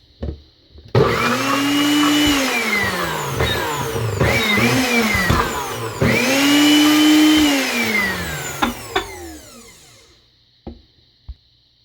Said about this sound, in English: blending these together so that the garlic and the ginger can release the infused aroma